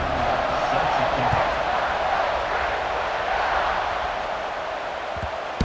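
A stadium crowd in the EA Sports College Football 26 video game keeps up a loud, steady roar of cheering as a Texas A&M kickoff approaches, a dense wash of noise through the whole stretch.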